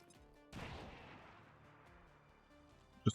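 A grenade goes off in XCOM 2: Long War of the Chosen with a single sharp blast about halfway in, its rumble fading slowly, followed by a brief loud pop right at the end.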